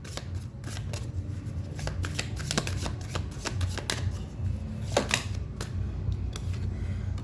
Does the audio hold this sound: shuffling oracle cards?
yes